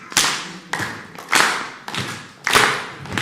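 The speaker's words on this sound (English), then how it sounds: "I just need you to hit your foot and then clap" Audience stomping feet and clapping together in a slow repeating rhythm, each loud thud followed by a sharp clap, about five cycles in a hall.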